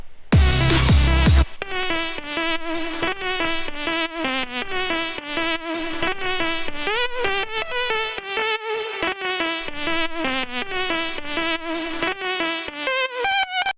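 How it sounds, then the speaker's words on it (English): Hardwave synth lead plays a bright, buzzy melody with sustained notes. It enters after a short burst of noisy sound at the start and runs continuously at steady loudness, backed by a rhythmic electronic track. "the next lead melody sounds like this."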